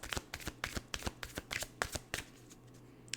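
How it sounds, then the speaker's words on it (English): Tarot cards being shuffled up close, a rapid run of crisp riffling bursts in a steady rhythm that slows and fades toward the end, with no voices. "as I was picking up the cards and shuffling, getting ready for pile number 2, this card fell out"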